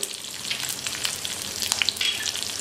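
Chopped green chillies, mustard seeds and cumin sizzle in hot oil for chivda, a close, bright crackling hiss with sharp little pops and spits scattered through it, no voices.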